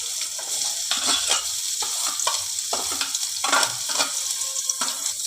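Chopped onion frying in white cooking oil in a pan, a steady soft sizzle with repeated scraping stirs close by, no voices.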